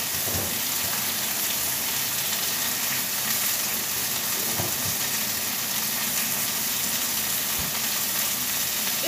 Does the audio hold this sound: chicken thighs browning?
yes